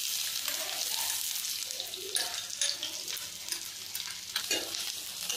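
Cumin and onion fry in a tablespoon of hot oil, giving a loud, continuous sizzling hiss with occasional spattering pops.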